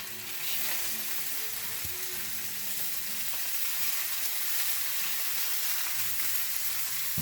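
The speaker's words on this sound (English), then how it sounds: "You can see your salmon. You want to hear the sizzle." Continuous sizzling of salmon frying in a hot pan, steady and crackly, with faint low clanks.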